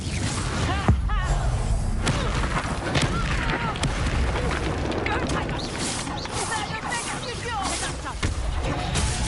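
Confringo fire spells burst in Hogwarts Legacy combat, a busy loud clash of blasts, whooshes and smashing impacts, with a voice talking throughout.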